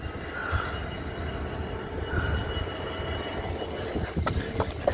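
A Class 66 diesel locomotive with a train passes by outdoors, a steady broad rumble and rail noise holding throughout at moderate level, with faint squeal-like tones and some clatter building toward the end.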